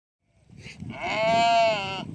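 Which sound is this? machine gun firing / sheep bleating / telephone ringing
sheep bleating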